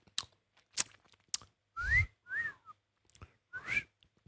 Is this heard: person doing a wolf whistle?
yes